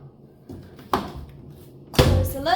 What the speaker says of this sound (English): shut the drawer